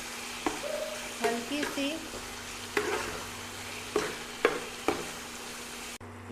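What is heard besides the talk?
yogurt cooking in pan for duck egg curry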